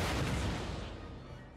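A booming cannon shot in the Empire: Total War video game, a heavy low blast that rolls and fades slowly, mid-distance and alone without voices.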